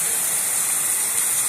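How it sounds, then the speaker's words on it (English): Heavy rain pours down during a thunderstorm, a loud, dense, unbroken hiss of water with no distinct drops or thunder, steady for the whole short stretch. "It is pouring right now."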